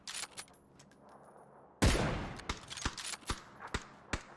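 Gunfire from the battle royale game PUBG: a sudden loud shot burst followed by a rapid series of sharp, separate cracks, with fainter distant pops before it.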